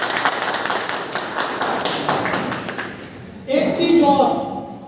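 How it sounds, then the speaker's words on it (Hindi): A loud burst of audience applause fills a gathering hall, dense and continuous at first, then thinning out as a voice speaks over the tail end. "जोरदार तालियां।"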